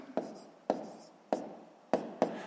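A pen writes numbers on paper in five short, sharp scratches spaced about half a second apart, close and fairly quiet, each one fading quickly, with no talking.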